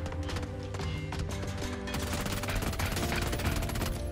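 Rapid bursts of P90 submachine gun fire in PUBG, fitted with a laser sight and suppressor, with dense repeated shots running steadily through the whole stretch at even loudness.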